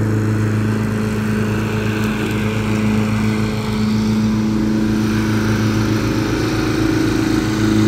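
A lawn mower cuts grass with a steady, droning engine hum and a constant low rumble, continuous and fairly close, with no breaks or voices.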